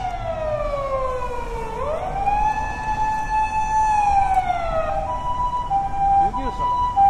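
A loud ambulance siren wails up and down, sweeping pitch continuously, close by, with traffic noise underneath.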